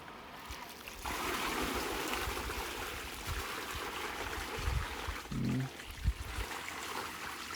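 Rainwater poured out of an inflatable outdoor pool, a steady close splashing and gushing stream of water running for several seconds with a few louder sloshes near the end.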